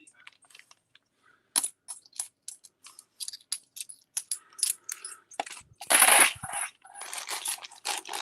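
Old coins in dirty condition clink and rattle as they are handled, with scattered small metallic clicks, a louder jingling burst in the middle and continued shuffling after it, close by and with no talk.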